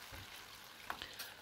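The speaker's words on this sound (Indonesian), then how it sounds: "goreng terong itu saya pakai minyak yang panas, apinya besar, digoreng sampai matang kayak gini" Cut eggplant pieces fry in hot oil over a high flame, giving a steady broadband sizzle with a few brief sharper pops near the end and no talk.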